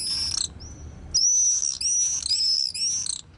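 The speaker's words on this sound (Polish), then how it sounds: "Są to jeżyki, ptaki, które gnieżdżą się w szczelinach elewacji budynków" Common swifts on an urban apartment block give shrill, high screaming calls in several drawn-out bursts, close and loud against a quiet background.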